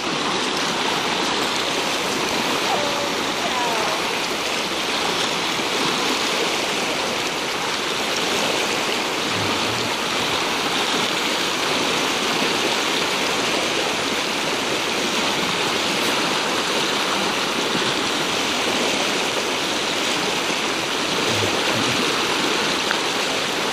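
A flash flood surges down Upper Clear Creek in the Tushar Mountains, a loud, close, unbroken roar of rushing water that holds steady throughout with no talking.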